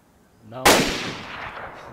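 A single sharp gunshot in the video game DayZ cracks loudly close by, then rolls off in a long fading echo, with a short voice murmur just before it.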